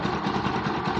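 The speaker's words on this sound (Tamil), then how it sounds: "இன்ஜின் சவுண்டை கேளுங்க." An original, untouched 2018-19 NS 160 motorcycle engine runs at a steady idle, close and loud, with an even rumbling pulse and no voices.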